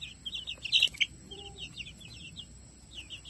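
Baby chicks chirping in quick, high, thin peeps, with a brief louder cluster early on, then scattered softer chirps over a steady low background.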